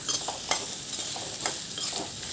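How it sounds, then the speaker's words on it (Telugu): Bottle gourd pieces fry in oil with a constant sizzle, and a spoon stirs them in a few scraping strokes, close and fairly loud. "ఇదే నూనెలో మనం సొరకాయ ముక్కల్ని వేసుకుందాం. దీనిని కూడా 2 నిమిషాల పాటు ఫ్రై చేయాలి."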